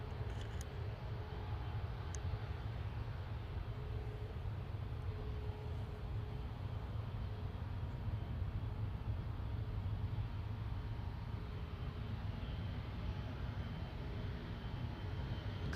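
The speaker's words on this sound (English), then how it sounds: "It's an EasyJet A320 Classic GZWK from Edinburgh to Paris" An EasyJet Airbus A320 at Manchester Airport gives off a faint, distant, steady low rumble that holds evenly throughout.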